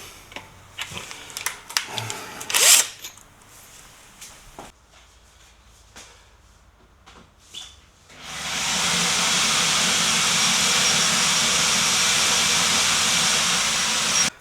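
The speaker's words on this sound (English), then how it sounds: "I got the head drilled off of there" A power drill bores out a seized bolt head on a Mini Cooper S, loud steady high-pitched whirring for about six seconds after a stretch of scattered clicks and faint handling noises.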